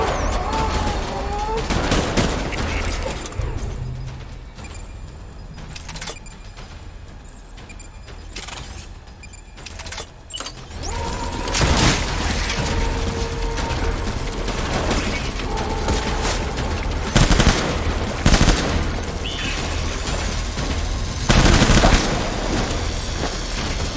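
Heavy battlefield gunfire from the video game Death Stranding during a World War 2 battle sequence: dense bursts of rifle and machine-gun fire with sharp shots and booming blasts, loud and continuous throughout, with a shouted voice briefly in the mix.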